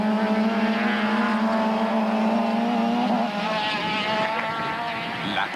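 1998 South African touring cars racing down the main straight toward a right-hander at Aldo Scribante, loud engines howling at high revs, one car's note dropping away as others pass close by.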